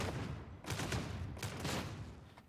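Several muffled boltgun shots fire in quick succession in Warhammer 40K: Darktide, each a heavy thump with a short tail, fairly faint and spaced unevenly over a couple of seconds.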